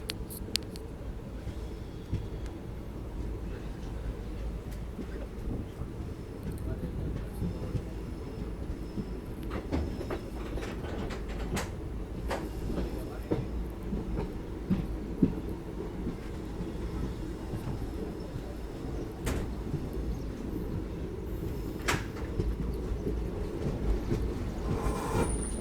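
The Palnadu SF Express from Guntur to Vikaramabad running on rails, a steady loud rumble with faint clicking from the wheels, heard from inside the train with no voices.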